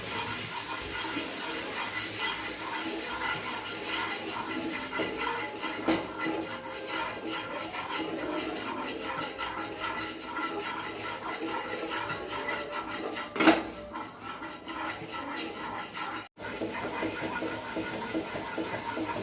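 Sugar and a little water being stirred in a wok (kadai) to make caramel for mishti doi, a continuous soft scraping and rubbing of a spoon against the pan, quiet and steady, with a sharper knock near the end.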